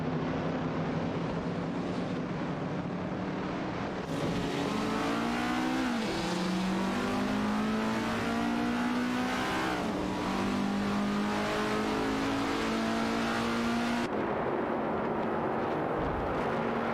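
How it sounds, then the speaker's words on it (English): Race cars in a racing video game, including a Holden Monaro GTA 68, rev and accelerate with rising, gear-shifting engine whines layered over a constant loud engine drone. "is revving up in a Holden Monaro GTA 68"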